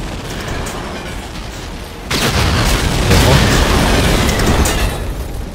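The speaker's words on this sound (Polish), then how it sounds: "Ale wybuchnie zaraz." A sustained roaring blast swells suddenly and rumbles on for several seconds, loud and broadband, an explosion in the game Medal of Honor: Allied Assault.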